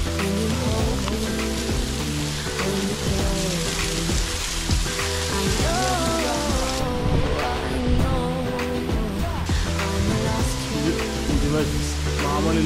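Pogulla waterfall in the Nallamala forest of Telangana roars as a constant broadband rush of falling water, close and loud, while people talk and call out over it.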